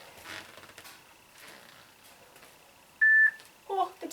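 A workout interval timer sounds its 10-second warning during a no-equipment cardio session: one loud, sustained electronic beep, with faint room noise and soft movement before it.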